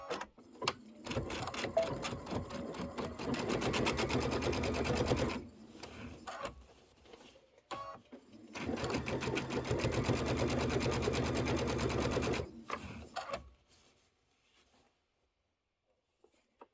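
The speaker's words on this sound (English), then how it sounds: "that is me sewing the wrong side on" A sewing machine stitches fabric onto a Kimberbell Sweet Land of Liberty pillow in long steady runs with rapid needle clatter, broken by short pauses and ending in quiet.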